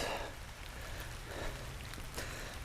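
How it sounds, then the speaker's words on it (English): Rain falls steadily during a disc golf round, a continuous close patter and hiss with soft bursts of heavier drops, no talking. "Rain is picking up even more."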